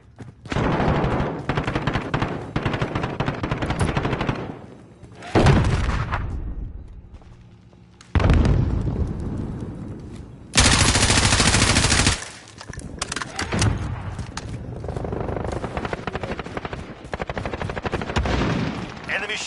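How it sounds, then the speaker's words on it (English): An enemy sentry gun in Modern Warfare fires sustained automatic bursts, loud and close, broken by short pauses and heavy blasts, with multiplayer announcer voice and other battle noise over it. "Enemy sentry gun active."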